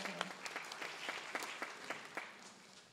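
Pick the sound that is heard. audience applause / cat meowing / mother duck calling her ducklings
audience applause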